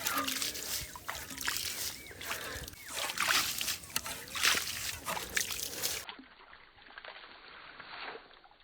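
Irrigation water flowing through a channel in a field, a steady broadband trickling and sloshing at moderate level, with no voices over it.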